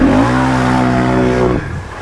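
Can-Am Outlander ATV engine revving hard at a water's edge, a loud sustained roar with steady harmonic drone that cuts off abruptly near the end, leaving a lower idle rumble.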